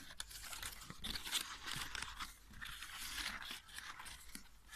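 Scissors snip repeatedly through a large paper flower petal up close, a steady run of crisp cutting and crinkling strokes with no talking.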